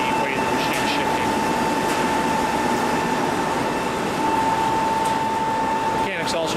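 A Bullard Series 75 machine tool runs with its cover removed, giving a steady mechanical hum and whirr with a faint tone throughout, close and continuous, and a brief clunk near the end.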